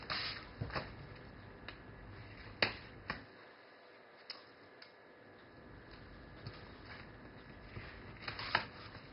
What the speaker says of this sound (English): I'm just going to grab the lining, peel it off, and stick it down.